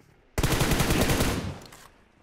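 Rapid automatic gunfire from PUBG Mobile, a loud sustained burst of closely spaced shots lasting over a second before tapering off, heard alone with no talking.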